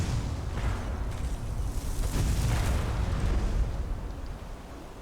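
Fireball spells exploding in the fantasy video game Enderal: Forgotten Stories, a loud run of heavy rumbling booms and bursts that swell midway and then taper off.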